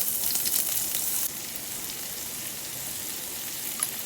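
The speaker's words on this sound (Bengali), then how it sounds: "আচ্ছা লো ফ্লেমে ভাজছি একটু হাই করলাম" Spring onion leaves frying in a pan for a bhorta, a close continuous hiss that drops to a lower, steadier sizzle partway through as the heat changes, with a small pop near the end.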